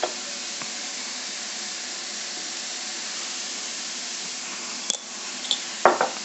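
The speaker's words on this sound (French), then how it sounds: "je mélange et je laisse mes légumes cuire" Vegetables cook in a pan for a quiche, giving a steady even sizzle with a few utensil clicks and scrapes near the end as they are stirred, no talk.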